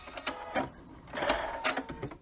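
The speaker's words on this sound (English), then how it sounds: "I'm going to do a little back stitch to lock that in" A sewing machine runs in short bursts while back stitching a seam on a memory pillow, a close, rapid mechanical whir with brief pauses between passes.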